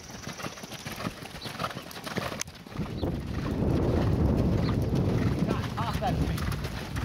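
A horse cantering in an outdoor riding arena during a jumping clinic: rhythmic hoofbeats on soft footing, nearby and steady, with wind noise. An instructor's voice can be heard at times.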